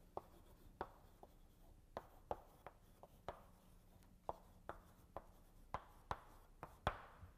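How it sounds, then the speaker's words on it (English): Chalk writing on a board during a linear algebra lecture, a faint series of sharp taps and short scratchy strokes at irregular intervals in a quiet room. "Now I'm going to write down another vector space"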